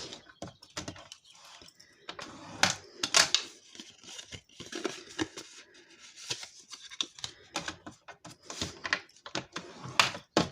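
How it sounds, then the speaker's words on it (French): Paper being creased into folds to make small gift bags, close crinkling and sharp pressing rustles in irregular bursts, fairly quiet with pauses between. "On vient marquer les plis."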